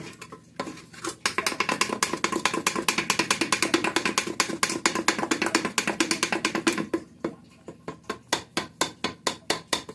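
Flour dough for pooray is mixed by hand in a metal bowl, giving rapid, rhythmic slapping and clinking that runs steadily, pauses briefly, then resumes in slower separate beats.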